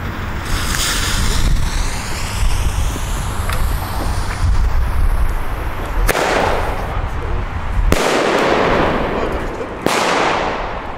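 Gaoo Zombie Attack firework shells launched from 30mm mortar tubes outdoors, heard as a few sharp cracks and bursts at intervals, each followed by rumbling decay over a steady background wash.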